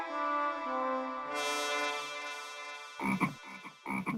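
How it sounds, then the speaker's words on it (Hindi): A frog croaks in a long, drawn-out rasping call, followed by a few shorter, choppy croaks close by. "मेंढक, मेंढक"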